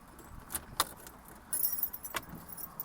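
Car keys jingle at the ignition of a 1969 Mercury Cougar. A few light, brief metallic clinks sound close by against a quiet cabin, with no talking.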